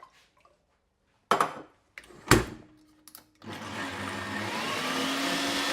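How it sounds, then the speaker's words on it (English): A stand mixer whisks egg whites for a baked Alaska. A few clunks and clatters come first, then the mixer starts up with a steady, loud, high whirring drone that carries on to the end, with no talking. "So there's our egg whites separated. Whack them in a mixer."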